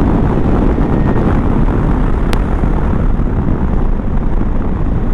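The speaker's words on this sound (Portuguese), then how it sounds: "Estou a andar a fundo na moto." A 2020 KTM 390 Adventure motorcycle runs at full throttle up a slope, a steady, loud, unbroken roar heavily mixed with wind rush, with no talk.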